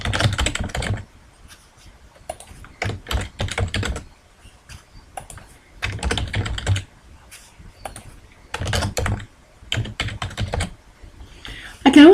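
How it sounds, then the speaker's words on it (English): Typing on a computer keyboard while filling in SmartArt boxes in Microsoft Excel 2010: repeated bursts of close, crisp key clicks separated by short quiet pauses, with no one speaking. "I can then type information into the various boxes"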